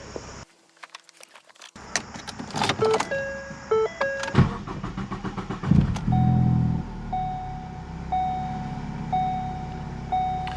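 2014 Ford Focus with low fuel pressure cranking at length after a fuel pump replacement and then catching, with clicks and chimes from the cabin, the starter's whir, and the engine settling into a steady idle with a repeating warning beep.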